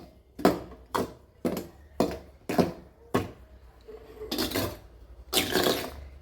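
Pakoda batter with salt being mixed by hand in a bowl, making a regular series of wet slaps and knocks, about one per half second, close and clear.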